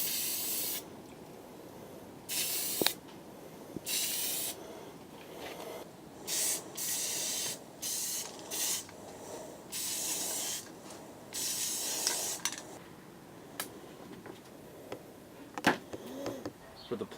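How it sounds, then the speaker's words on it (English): A spray paint can hisses in repeated bursts of a second or so each, close and loud, as paint is sprayed onto canvas or poster board for a piece of spray paint art, with short quiet gaps between the bursts. "don't spray it directly at your canvas or poster board"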